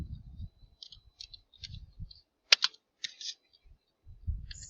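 Computer keyboard keys typed in short irregular bursts of clicks, close and fairly quiet, with a louder clack partway through; low handling noise sits beneath, and no one speaks.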